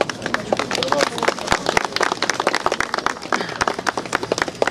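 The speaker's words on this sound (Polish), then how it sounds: "Piękne brawa." Audience applause at the opening ceremony of a viewing tower in Krynica, steady dense clapping from a crowd that swells and thins in bursts across the whole stretch, fairly close and loud.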